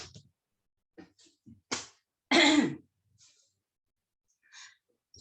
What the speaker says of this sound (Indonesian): Agak batuk